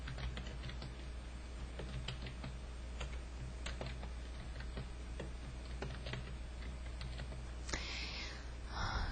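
Rapid, irregular clicks of typing on a computer keyboard, loud and close over a steady low hum, continuing for most of the stretch before a brief louder rustle near the end.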